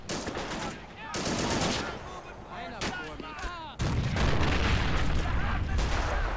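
Anti-air guns in Men of War Assault Squad 2 firing in heavy, rapid bursts during a skirmish, with booming shots layered over battle noise and a voice talking in between.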